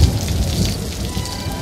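Heavy rain pours steadily over an animated story scene, a dense, close, continuous wash of drops hitting surfaces with no break and no voices.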